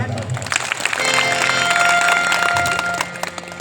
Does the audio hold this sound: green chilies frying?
no